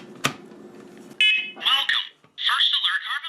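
A First Alert SCO7CN smoke and carbon monoxide detector powers on with a sharp click, then a loud, steady high beep, followed by its synthesized voice announcing itself, close up and clear.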